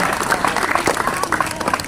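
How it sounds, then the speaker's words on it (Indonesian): A large crowd of junior high school students at a religious lecture claps and cheers, with dense applause mixed with loud crowd voices and shouts throughout. "Tepuk tangan dong"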